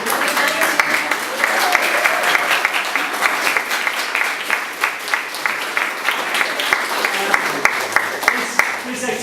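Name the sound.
audience applause at exhibition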